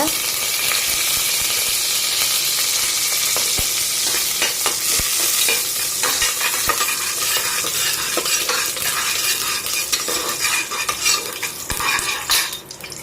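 Fennel seeds and curry leaves crackle and sizzle in hot oil for a vegetable biryani, with steady frying hiss and occasional scrapes and clinks of a ladle stirring the pan.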